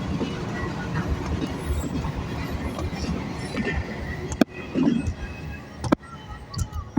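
A Norfolk Southern freight train passes with a steady rumbling rail roar and intermittent sharp wheel clacks, fairly close, with occasional voices of people talking nearby.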